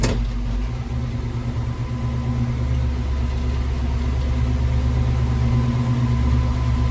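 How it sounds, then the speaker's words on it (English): A truck engine with an exhaust leak idles steadily with a low, rough rumble and a faint ticking puff from the exhaust, continuous and close, without any voices. "that exhaust leak sucks"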